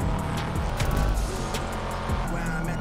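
A Subaru 22B rally car, the Sultan RS Classic in GTA Online, roars along with engine noise and tire squeal throughout, close and continuous with faint voice underneath.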